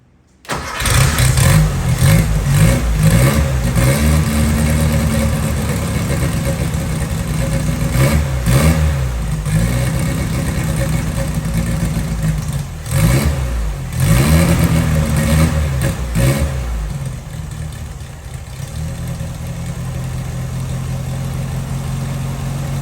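A VW Thing engine cranks, catches and revs, running loud and close for about twenty seconds with repeated rising and falling swells of throttle.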